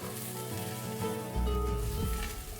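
Shiitake mushrooms and garlic sauté in a hot pan, a close, continuous sizzle with soft crackles and stirring scrapes that grows slightly louder partway through.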